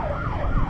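An ambulance siren wails on a road, its rising and falling tone sweeping continuously and fairly loud over steady traffic and wind noise, heard from a motorcycle rider's position.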